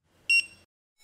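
A handheld barcode scanner reading an item's code gives a single short, bright electronic beep, clean and close, followed by near silence and the faint start of another tone.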